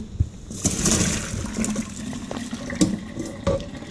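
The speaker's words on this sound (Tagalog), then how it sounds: "So we have to remove the water, drain." Water from half-cooked macaroni pours out into a sink, a continuous close splashing rush with a few sharper clanks and knocks of the pot over the running stream.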